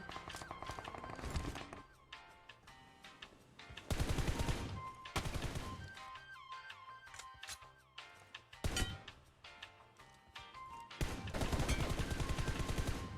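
Bursts of rapid automatic gunfire from a video game, loud and clustered in several separate volleys with quieter gaps of scattered shots between them.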